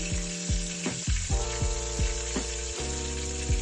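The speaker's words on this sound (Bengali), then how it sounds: "চিকেন ফ্রাই হয়ে গেছে।" Boneless chicken breast pieces fry in a pan for a curry, giving a quiet, continuous sizzle with some tonal whine and a few soft clanks, without any talking.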